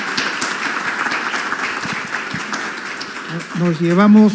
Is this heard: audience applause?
yes